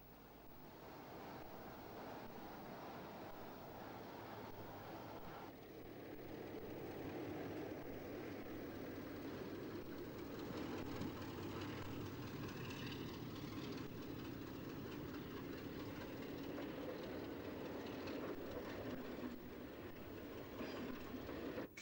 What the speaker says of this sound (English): to witness the arrival and departure of a farewell rail tour formed of blue Mark I suburban stock, headed by a Class 31 brush diesel